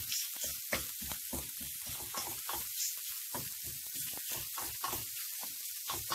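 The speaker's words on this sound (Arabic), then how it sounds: "كنخلي الحشوة ديالي كنبقى نحرك فيها، نحرك حتى نحس بيها" Savory crepe filling stirred in a pan, a soft sizzle broken by repeated rhythmic scraping strokes, close and fairly quiet, with no voices.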